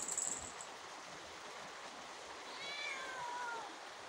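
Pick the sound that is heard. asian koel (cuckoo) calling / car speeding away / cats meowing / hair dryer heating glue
cats meowing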